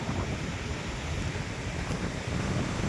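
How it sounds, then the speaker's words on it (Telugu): Sea waves washing onto a beach with wind buffeting the microphone, a steady, loud, unbroken roar of surf with no voices. "అనంతమైన సముద్రం ఉంది వెనకమాల."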